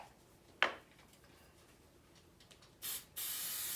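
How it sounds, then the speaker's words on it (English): Silicone mold release sprays onto silicone molds in two short aerosol hisses near the end, close and fairly loud, after a single sharp click earlier in a quiet room. "we're going to start by spraying our silicone molds with the silicone mold release"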